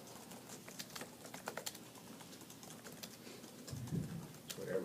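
Reporters type on computer keyboards at a press session after practice, a soft irregular patter of key clicks at moderate distance, with a faint low thump near the end.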